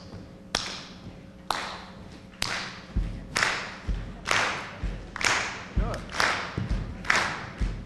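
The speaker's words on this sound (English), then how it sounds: "You pat your foot on 1 and 3, clap your hands on 2 and 4" Steady rhythmic sharp claps alternating with low foot pats on the beat from a group keeping time, starting sparse and building to an even pulse.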